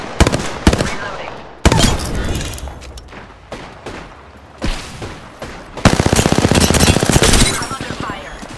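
Rapid bursts of automatic gunfire crackle from a first-person shooter in the Wraith match, loud and close, coming in several heavy volleys separated by short gaps.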